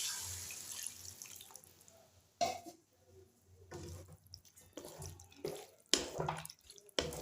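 Quiet splashes of water poured in short, uneven bursts into a pot of vegetables for spicy kuzhambu curry, with pauses between pours.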